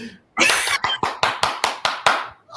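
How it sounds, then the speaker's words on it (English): Hand clapping from a small group or a few people, seven or eight sharp claps in a steady rhythm, close and loud, starting after a brief silence. "A round of applause for that one."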